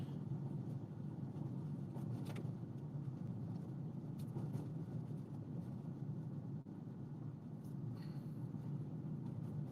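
A rear-wheel-drive car rolls along a gravel road in Australia, a steady low rumble of engine and tyres on loose stones from inside the cabin, continuous and even with no talk.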